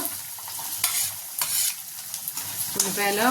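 Sliced onions frying in oil with a bay leaf and cumin seeds, a loud steady sizzle broken by several scraping stirs of a spatula close by.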